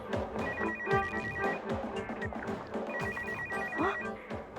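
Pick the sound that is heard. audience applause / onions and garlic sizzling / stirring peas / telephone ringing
telephone ringing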